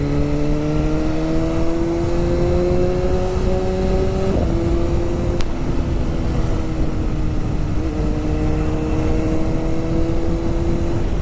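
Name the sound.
BMW S1000RR motorcycle engine revving with exhaust pops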